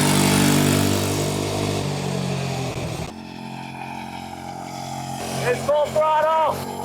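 A cheap motorcycle engine roars at full throttle, loud and steady at first, then drops away, with a voice talking over it near the end.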